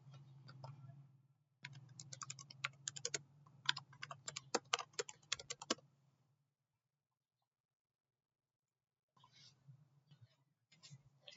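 Python code typed on a computer keyboard into Google Colab: rapid, faint clicking keystrokes for several seconds, a pause of silence, then the typing resumes in short bursts.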